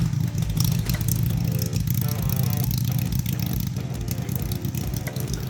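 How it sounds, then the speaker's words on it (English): An old Harley-Davidson motorcycle that had sat unused for years runs steadily after being started, a loud, continuous low engine rumble filling the whole stretch with no talking. "as you've seen, we got that bike running"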